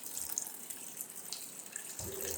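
Water runs steadily from a kitchen tap while tamarind is rinsed, a continuous close splashing stream with a slight change in tone near the end.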